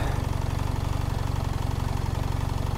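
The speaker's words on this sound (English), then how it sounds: "as you rev the bike, there's no kind of movement to the side like the old GSs used to have" A BMW R1300 GS Trophy Edition motorcycle engine runs close up with a steady, even low throb and fast rhythmic pulsing, holding at a constant idle-like pitch throughout.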